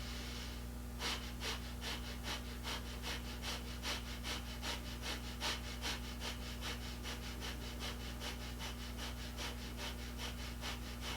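Rapid, forceful rhythmic breathing of breath of fire in Kundalini yoga, a steady run of quick sharp exhales repeating evenly for many seconds over a low constant hum.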